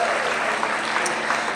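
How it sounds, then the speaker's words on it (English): Audience at a Spirit of Stonewall rally breaks into steady, dense applause, a continuous wash of clapping that holds at full strength for the whole moment with no talk over it. "A round of applause."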